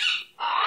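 A pet baby bird gives a short, sharp, loud squawk, breaks off for a split second, then squawks again close by, with no voices over it.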